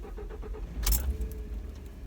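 A Ford F150 EcoBoost cranks and fires up cold on a 1°F morning, a brief burst of starter noise settling into a steady low engine idle, close by with no talking.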